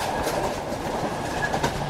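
A Sri Lankan Railways train on the Colombo to Kandy line rolls along with a steady, moderate rumble and rhythmic clickety-clack of wheels, heard from aboard with no talking.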